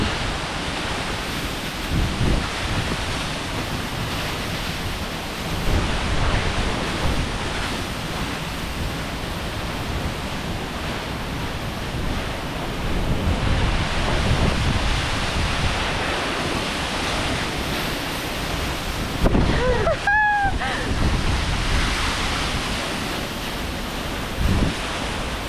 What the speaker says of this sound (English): Time to walk behind the waterfall.